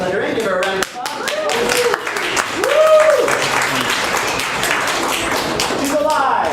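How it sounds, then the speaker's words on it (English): An audience at a live comedy improv show applauds loudly and steadily, with cheering voices and whoops mixed into the clapping throughout. "Give her a round of applause."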